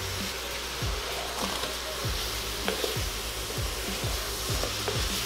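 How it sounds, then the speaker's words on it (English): Cauliflower and onion sautéing in bacon and sausage grease for smoked Zuppa Toscana soup, a constant close sizzle with soft regular scraping thumps from stirring, no talking. "we're basically just going to saute that and then get everything coated in a good layer of bacon and"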